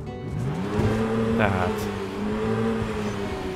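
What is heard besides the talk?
car engine starting and revving in the video game Project Zomboid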